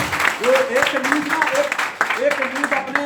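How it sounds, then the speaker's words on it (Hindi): Audience applause during a motivational training seminar in Ahmedabad, a steady patter of clapping running beneath a voice talking loudly throughout. "ताली ना ताली खुल के बजाओ"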